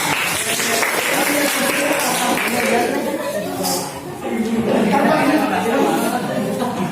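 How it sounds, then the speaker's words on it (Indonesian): Classroom applause for a student group, brief clapping mixed with chatter and chuckling from students, a busy close room sound with voices throughout. "tepuk tangan untuk kelompok 2"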